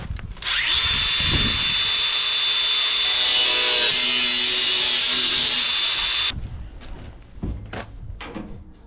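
A power tool cuts through the end of a metal rain gutter downpipe, a loud, sustained whining grind of several seconds that stops abruptly, followed by faint clicks and handling noises close by.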